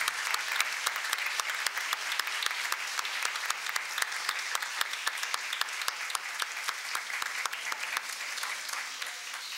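Audience at a formal ceremony for National Book Day gives sustained applause to young student authors, a steady wash of many hands clapping at moderate distance, continuous and even throughout.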